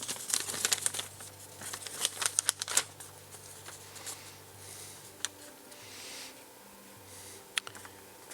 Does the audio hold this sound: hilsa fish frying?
no